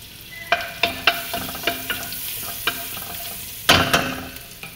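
Butter and garlic sizzle softly in a pan while a utensil stirs and scrapes in irregular clacks, a few sharper knocks standing out over the low frying hiss.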